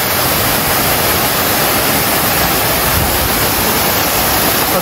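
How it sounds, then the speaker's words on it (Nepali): Dense, roaring wash of a forest waterfall near Dharan, a loud, constant broadband rush of falling water with no voices or breaks. "अत्यन्तै सुन्दर झरना।"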